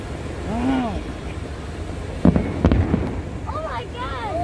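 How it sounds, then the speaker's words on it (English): Loud fireworks burst at a Saudi National Day celebration, with several sharp cracking explosions in a cluster and whistling rockets rising before and after, heard amid wind and excited voices. "There's a lot of fireworks!"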